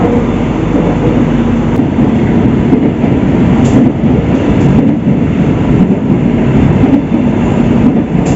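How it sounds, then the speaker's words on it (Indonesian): A train on the airport rail line to Soekarno-Hatta Airport rumbles steadily throughout, with continuous low wheel and track noise and faint clicks, loud and close from inside the carriage, no talking. "jadi sebentar lagi keretanya akan sampai di Bandara Soekarno-Hatta"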